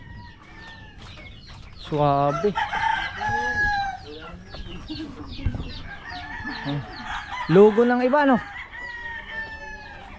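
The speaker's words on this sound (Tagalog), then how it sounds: "Ayan may manok dito. Ang dami." Roosters crow loudly twice amid scattered clucking from a flock of chickens at a rooster training camp, with people talking quietly in between.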